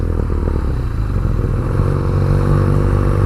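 A 2017 BMW R nineT Urban G/S motorcycle engine rumbles steadily at close range, a deep throbbing idle with a faint rise in revs toward the end.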